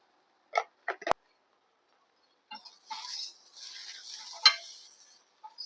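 Sundal being stirred with sundal powder in a pan for a Navaratri prasadam, a few quiet scraping spoon strokes at first, then a longer stretch of soft stirring and light sizzling, close and gentle.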